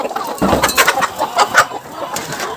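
Brooding hens clucking close by on a poultry farm, a cluster of short soft clucks and murmurs in irregular bursts.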